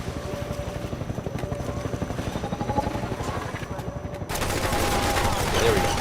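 Half-Life 2 helicopter gunship opening fire, a rapid stream of machine-gun bursts under a rotor drone, shifting to denser, louder gunfire with a voice speaking over it.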